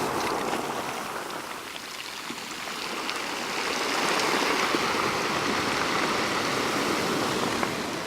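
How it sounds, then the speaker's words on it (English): Water rushes in at a shoreline edge, a broad hissing wash that swells louder partway through and then holds steady, close by with no voices. "as soon as the water rushes in"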